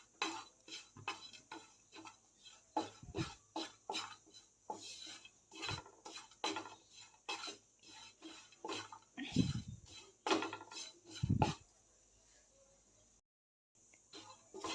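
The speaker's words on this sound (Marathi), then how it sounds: "खोबरं लालसर होईपर्यंत भाजून घ्यायचं आहे" Coconut dry-roasting in a pan, heard as a string of quiet, irregular spatula taps and scrapes close by, followed by a brief pause near the end.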